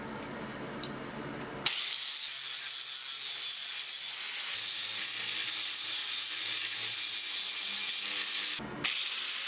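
Steel billet is cut in a grinding room during work on a forged Bowie knife, a loud continuous abrasive cutting roar that starts abruptly and runs steadily, with a short break near the end.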